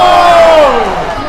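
A crowd at a high school hockey game cheers and shouts in a loud burst that swells and then fades over a moment.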